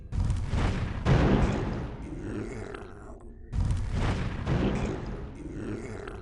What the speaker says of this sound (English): And we can of course do our fire flash.